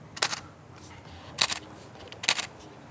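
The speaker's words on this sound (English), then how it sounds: "The shutter, the mechanical shutter, sounds like you took a bunch of change and you dropped it into a box of Kraft Dinner" A Canon R7 fires its mechanical shutter three times in a quiet room, each one a crisp, close, rattling clack spaced about a second apart.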